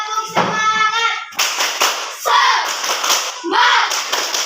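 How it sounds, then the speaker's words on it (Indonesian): A classroom group performing the tepuk semangat clapping routine: bursts of rhythmic hand claps in short clustered sets, alternating with chanted voices, fairly loud and close. "Sekarang kita bangun tepuk semangat kembali."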